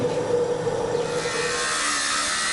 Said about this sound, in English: They are sawn off, leaving short plugs attached to the bronze sculpture.